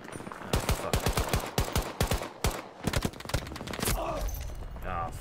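Rapid bursts of gunfire ring out in the video game Battlefield 2042, a loud sequence of sharp shots in quick rhythm, then a brief rumbling blast and lingering noise.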